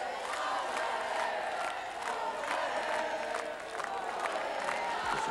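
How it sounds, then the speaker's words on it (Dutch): Crowd at a televised outdoor team games contest in the Netherlands claps and cheers steadily, sharp individual claps and whoops standing out over a distant, continuous crowd murmur. "Applaus."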